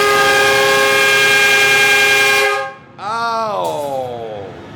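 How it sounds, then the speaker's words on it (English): A loud, steady multi-tone train horn at a haunted house attraction blares for over two seconds, cuts off, then returns with a sagging, bending pitch before fading slightly. "And there's a train."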